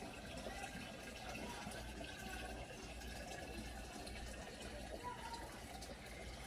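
A container fills with water during a 10-gallon fish tank water change, a very faint, steady rushing trickle that keeps a constant level throughout, with no voices.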